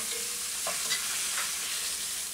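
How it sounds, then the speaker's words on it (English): Shallots frying in oil in a pan, being stirred and spread around, give a steady soft sizzle with a few light scrapes, heard close up with no talking. "you do wanna cook those shallots pretty well. And you're just gonna spread them around in the pan."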